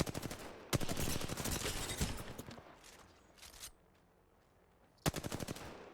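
Rapid bursts of video-game gunfire, loud and close, with a long stream of shots, a quieter lull, and then another sharp burst near the end.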